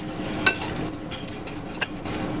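Shrimp being stirred into sauce for bang bang shrimp tacos make soft, close wet squishing and scraping sounds, with a couple of brief sharper clinks of a utensil against the bowl.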